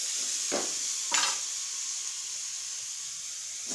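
Raw plantain frying in a pan gives a steady bright sizzle throughout, broken by a couple of short scraping stirs near the start and one at the very end.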